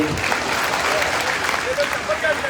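An audience claps together in a sustained burst of applause, loud and dense, with a few voices faintly audible underneath.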